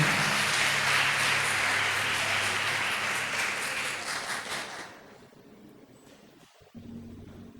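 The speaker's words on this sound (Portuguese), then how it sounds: "aplauda o Senhor e se coloque de pé" A church congregation applauds the Lord in a full, loud burst over low sustained music, the clapping fading away after about five seconds into quieter room sound.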